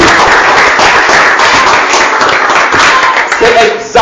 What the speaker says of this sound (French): Applaudissez bien fort pour ces frères.